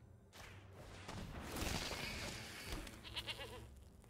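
A goat token's digital bleat from the MTG Arena card game rises as a short, fairly faint wavering cry amid soft game effects, with no talking.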